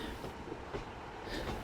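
A train on the Tamar Valley Line runs with a brief, faint, steady rumble and rail noise, distant and continuous, with no voices.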